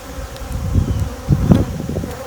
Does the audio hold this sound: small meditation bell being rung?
no